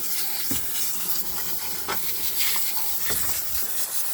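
A water hose sprays steadily over a greasy, oily motor, rinsing out a channel and a tandem pump. A continuous close hiss of spraying water runs throughout, with brief splashing bursts where the stream strikes metal, and no talking.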